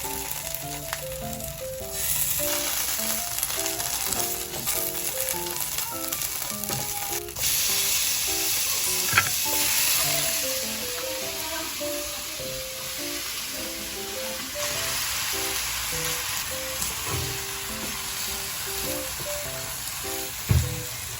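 Garlic and onion sizzle and fry in a pan, a loud, steady crackling hiss throughout, with occasional stirring scrapes and a clank near the end.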